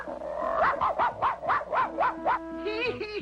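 A cartoon dog barks in seven quick, evenly spaced, high yelping bursts, and a short sliding tone follows.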